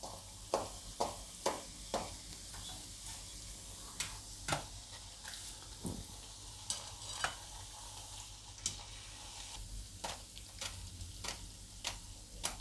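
Suvali dough frying gently in oil over a low flame, giving a soft steady sizzle with sharp crackling pops scattered throughout, close and fairly quiet.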